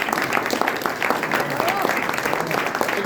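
An audience at a tribute to a Mexican rock band applauds one of its founders, steady mid-level clapping with a faint voice over the top.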